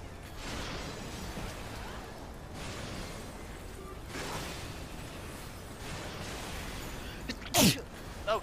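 One sharp, loud sneeze bursts out near the end, standing out over faint, muffled background noise from a raid session in a video game.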